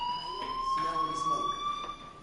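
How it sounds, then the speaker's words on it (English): A fire alarm in the video game Life is Strange, a steady, continuous electronic tone ringing throughout under a faint background murmur. "do you hear that fire alarm?"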